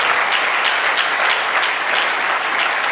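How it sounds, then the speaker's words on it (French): Applause from an audience at a church event, loud and dense steady clapping filling the whole stretch without pause. "Acclamons très bien."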